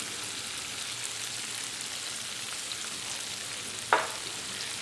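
Green and red peppers with chili frying in a pan, a steady close sizzle with one brief clatter near the end, no talk.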